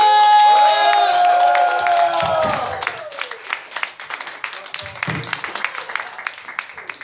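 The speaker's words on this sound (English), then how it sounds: "Everybody, big warm round of applause for Lee Kushner!" An audience at a stand-up comedy show at a pub in Canandaigua, New York, claps and cheers, a loud crowd sound that thins into scattered claps over several seconds with some voices mixed in.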